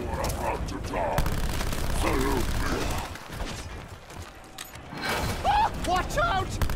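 Continuous gunfire in the Call of Duty Black Ops 4 Zombies video game, a dense rattling barrage that is loud at first, fades in the middle and then returns, with in-game character voices speaking over it.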